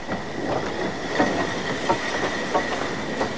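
A steam train on a heritage line creeps slowly back along the rails, its wheels giving a soft rhythmic clickety-clack over a steady rumble, moderately close with no voices.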